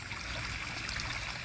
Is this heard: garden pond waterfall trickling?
yes